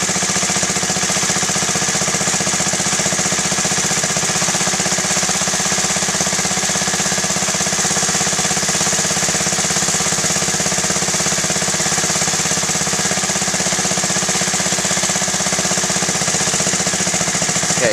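A Honda Z50A mini bike engine idles steadily up close while its carburetor pilot screw is adjusted, giving a continuous rapid putter with no break and no talking.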